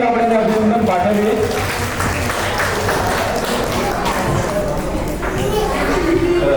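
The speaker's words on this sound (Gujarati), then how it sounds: "એક વાર ફરીવાર તાળીના ગગડાટથી આપણે અભિનંદન પાઠવીએ" Applause from a gathered crowd rings out after a game at a baby shower, a dense sustained clatter of clapping with voices and chatter mixed throughout.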